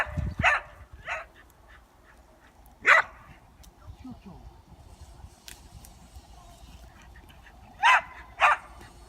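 Three dogs play by Underbank Reservoir near Stocksbridge, giving sharp barks scattered across the scene: one early, one midway, then two close together near the end, over faint outdoor background with some speech.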